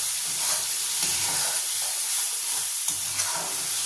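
Spice paste of garlic, tomato and green chili sizzling in a hot pan while being stirred, a loud close crackling hiss with repeated scraping strokes and no talking.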